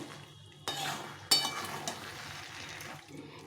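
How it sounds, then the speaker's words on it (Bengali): A pan of mixed vegetable curry is stirred with a utensil, giving sharp clanks and scrapes against the pan over a faint, low sizzle. "দিয়ে একটু ভালো করে আবার নেড়ে চেড়ে নিতে হবে"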